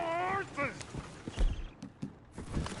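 Horses' hooves clopping in Red Dead Redemption 2 amid a chaotic scene with a coach, a few uneven thuds under excited speech.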